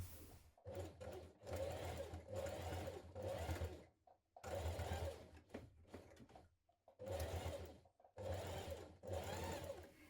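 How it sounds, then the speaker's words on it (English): A sewing machine edge stitches children's dungarees in several bursts of steady whirring, each run lasting a second or two and separated by short silent pauses, close and clear. "we're going to edge stitch with our machine"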